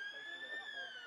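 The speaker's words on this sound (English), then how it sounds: "The siren sounds in the background for the drinks break." A steady, sustained siren wails at a rugby league first-grade match to signal the drinks break, holding a constant tone throughout with faint crowd and field ambience beneath it.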